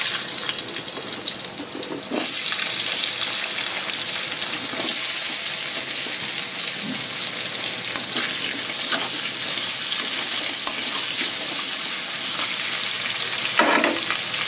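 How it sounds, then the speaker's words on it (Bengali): Potatoes frying in hot oil in a pan while being stirred, a loud continuous sizzle with scattered scraping and clinking from the stirring throughout. "এবার দিয়ে দেবো আলু।"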